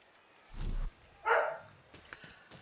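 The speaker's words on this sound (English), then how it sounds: "And my dog is still barking." A pet dog barks twice indoors, a deep woof followed by a sharper higher bark, moderately near with quiet room noise and small rustles afterward.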